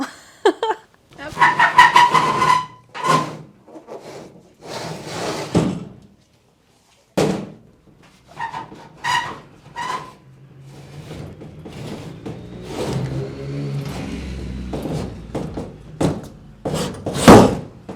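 Several solid car door thuds and slams, some near and heavy, spaced out between quieter handling noises and pauses, on a rusty car.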